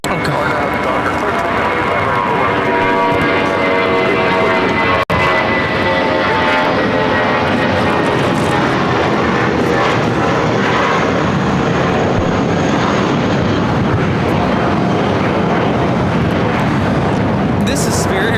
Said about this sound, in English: This is Spirit Airlines 1043 taking off to San Antonio on the A320.